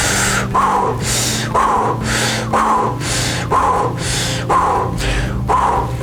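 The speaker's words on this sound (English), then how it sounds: "you breathe out and you breathe in and out very quickly" Rapid, forceful breaths in and out, repeated at a steady quick rhythm of about seven or eight cycles, close and loud with no talking.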